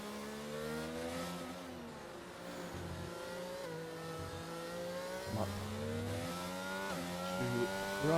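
Formula 1 race car engines in an F1 video game race in Spain, high-pitched and revving continuously as they shift through gears, with a few cars passing close.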